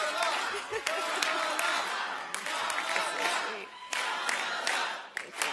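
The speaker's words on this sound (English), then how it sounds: "To all of us, applause to all of us." An audience at a DNC general session meeting in Los Angeles applauds, with a dense patter of clapping and crowd noise running throughout, voices mixed in beneath it.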